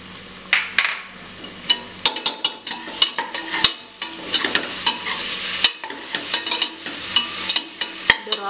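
Paste of ten green chilies fries and sizzles in a pan with rosemary leaves, loud close crackling broken by repeated stirring scrapes, with no talking.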